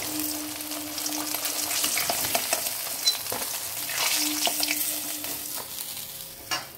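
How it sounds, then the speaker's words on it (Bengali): Pieces of fish frying in hot oil in a pan, a steady busy sizzle with occasional crackles and stirring clinks, close and continuous with no talk. "এখনো বেশ কয়েক পিস মাছ রয়েছে, আমি একবারে সবকটা ভেজে নেব।"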